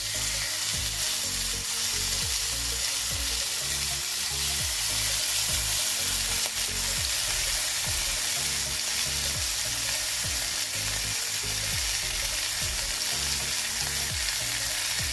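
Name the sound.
lamb chops sizzling in a hot grill pan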